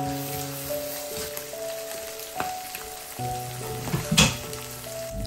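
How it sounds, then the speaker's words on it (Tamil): Chopped onions with dried chillies sauté in a pan for a liver curry, giving a steady sizzle and crackle with occasional stirring scrapes; faint tonal background music runs underneath and no one speaks. "நல்லா மிக்ஸ் பண்ணிவிட்டு வெங்காயம் கொஞ்சம் வதங்கட்டும் ஒரு ஃபியூ மினிட்ஸுக்கு"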